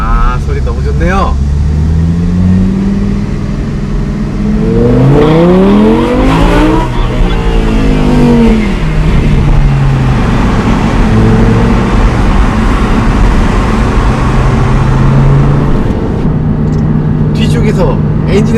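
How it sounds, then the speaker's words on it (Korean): An Audi R8 V10 Plus in sport mode roars from behind the cabin, its engine and exhaust revving and rising in pitch as it accelerates, then settling into a steady drone while someone talks over it throughout. "뒤쪽에서 엔진에서 나는 소리하고 배기 소리하고 그런 것들이 막"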